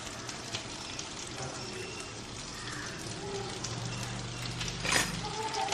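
French toast rolls coated in egg fry in butter over medium flame, giving a faint continuous sizzle and crackle with a few small pops near the end.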